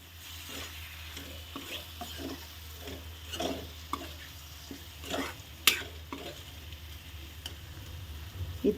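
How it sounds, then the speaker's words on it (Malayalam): A spoon stirring a lemon pickle mixture with asafoetida powder in a pan, soft scraping strokes in an uneven rhythm over a faint sizzle, with one sharp clink of utensil on metal. "നല്ല മിക്സ് ചെയ്യുക."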